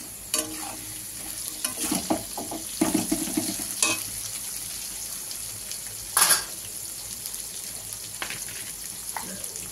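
Potatoes and onions sizzle in a pan, with a steady frying hiss broken by repeated scrapes and clinks of a spoon stirring against the metal.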